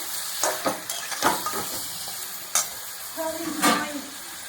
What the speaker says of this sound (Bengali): দেব হলুদ গুঁড়ো, ধনে গুঁড়ো দিয়ে খুব ভালোভাবে নাড়াচাড়া করে নেব।